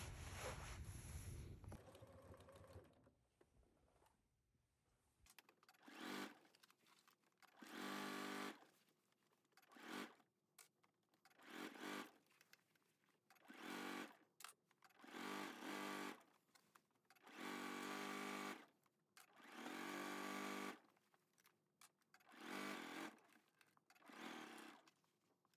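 A sewing machine stitches fabric while sewing down a dress bodice strap, running in repeated bursts of steady whirring separated by short pauses, fairly faint and close.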